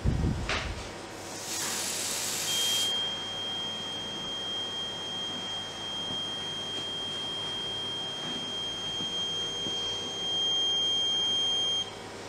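Reconditioned smoke detector heads sounding on test: a steady electronic beep tone holds for about ten seconds after a brief burst of hiss, fairly loud and close, with no talking.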